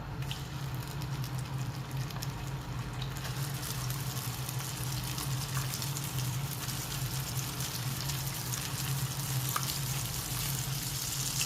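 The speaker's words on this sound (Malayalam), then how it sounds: "നമ്മൾ അരച്ച് വെച്ചേക്കുന്ന പേസ്റ്റ് ഇതിലേക്ക് ഇട്ട് കൊടുക്കാം." Ground spice paste frying with cumin in hot oil makes a steady, dense sizzling hiss that runs unbroken and fairly loud throughout, with a low hum underneath.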